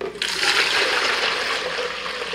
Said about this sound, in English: I filled up the mold with water and I'm just going to pour that into a measured container.